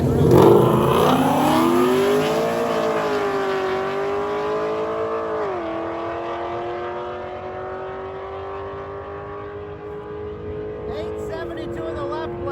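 Stick-shift drag race cars, roughly 8-second machines, roar down side-by-side lanes with loud rising engine notes and a gear change near the middle, a sustained high howl carrying to the end.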